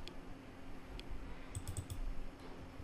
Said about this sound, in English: And now just double left click this